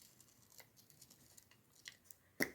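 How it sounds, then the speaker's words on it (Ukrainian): Scissors snip along the outline of a paper shape, a series of faint, small cuts spread out, ending in one sharper, louder snip. "обережно вирізаємо по контуру ножицями обережно, щоб не порізатись"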